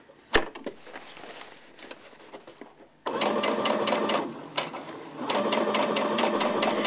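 Sewing machine running in bursts while stitching a curved neck seam on a garment, loud steady whirring with a short pause midway, preceded by quieter handling sounds and a sharp tap.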